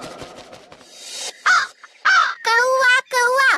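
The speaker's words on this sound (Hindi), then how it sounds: "कौवा कौवा, माँ कौवा।" A crow caws in a dramatised story, with several loud, harsh caws in quick succession at close range after some rustling.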